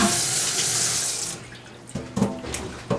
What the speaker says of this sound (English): Rinse your fingers off.